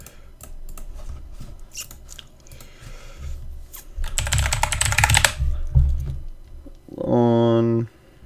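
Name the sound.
typing on a computer keyboard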